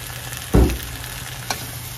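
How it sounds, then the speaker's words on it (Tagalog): String beans cooking in soy sauce in a pan, giving a steady low sizzle with one loud burst of spattering and stirring near the start and a smaller clatter later, close by with no talking. "iluto na natin ng konti sa toyo"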